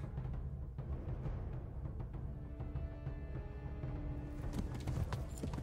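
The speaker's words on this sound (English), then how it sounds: "humans on horseback" Horses' hooves clip-clop steadily in the video game Kingdom Come: Deliverance as riders move along, a busy, continuous patter of hoofbeats close by with no talking.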